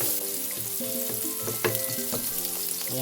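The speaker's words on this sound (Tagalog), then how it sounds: "lagay na natin ang sibuyas" Garlic and onion sizzle in hot oil in a pan, a close, even frying hiss with a few sharp crackles and one louder pop near the middle. No voices are heard.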